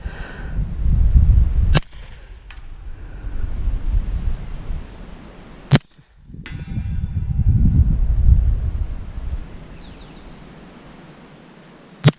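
An FN 545T pistol fires outdoors: three sharp, loud single reports spaced several seconds apart. They cut through gusty wind rumble against the microphone.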